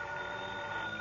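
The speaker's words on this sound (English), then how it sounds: "the phone beside my bed started jangling again" An old-style bedside telephone rings in a radio drama sound effect, a steady continuous jangle filling the short moment, close and alone without voices.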